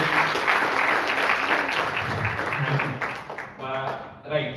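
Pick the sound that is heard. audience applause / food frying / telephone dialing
audience applause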